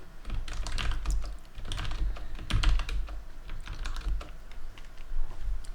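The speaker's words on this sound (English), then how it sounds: "I type the text and then I press enter." Computer keyboard being typed on, with text entered and the enter key pressed: a dense, continuous patter of keystrokes with some heavier thumps mixed in, close and moderately loud, no voices.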